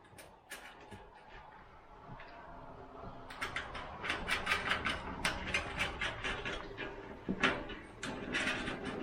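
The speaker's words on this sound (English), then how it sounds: "I'll put another nut and bolt through" Metal parts of a Pleasant Hearth KILLIAN fire pit click and rattle as a nut and bolt are fitted, with a rapid run of small ratcheting ticks from hand tightening and a few clanks; close and quiet, no talking.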